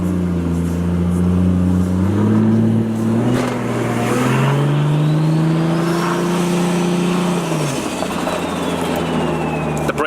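A 1994 Toyota Supra Turbo, built to handle about 1,000 horsepower, revs loudly while driving around the block, its engine note climbing through gear changes and dropping near the end with no talk.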